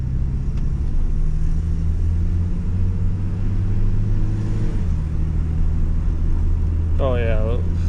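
A 2007 Chevy Silverado 4.3L V6 with a lean-running fault drones steadily nearby on the gas, its engine tone holding loud and even, then dropping in pitch partway through as the revs ease off, with a brief voice near the end.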